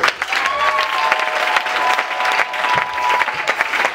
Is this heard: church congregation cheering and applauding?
yes